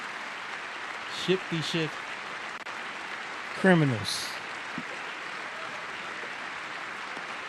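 A crowd applauds for a man just released from prison, steady clapping in the background while someone speaks a few short phrases over it.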